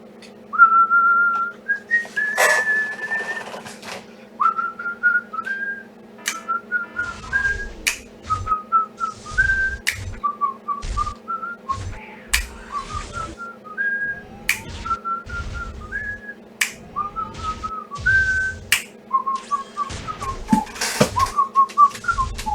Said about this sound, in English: I'll stop whistling, guys.